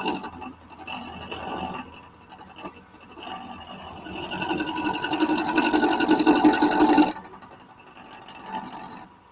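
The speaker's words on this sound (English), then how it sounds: "turn the lathe off and put it up on full speed" A wood lathe turning spindles buzzes and whirs with rising intensity, peaking in a loud sustained rough cutting sound before dropping off abruptly, up close.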